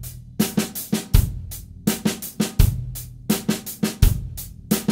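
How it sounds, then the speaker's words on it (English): Funk-rock drum kit groove in sixteenths, the snare's accents shifted around among soft ghost notes; a steady, close, crisp pattern of sharp hits and lighter taps repeating for several bars, no voices. "how we can start moving the accent and the ghost notes on the snare drum"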